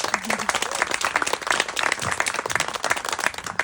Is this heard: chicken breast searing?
no